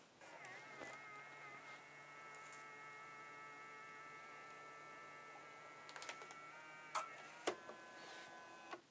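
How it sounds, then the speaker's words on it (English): A Fujifilm instant photo printer outputs an image sent over Bluetooth: a steady, faint mechanical whirring hum runs throughout, with a few brief clicks and clunks near the end as the print emerges. "We have our image coming out of the printer."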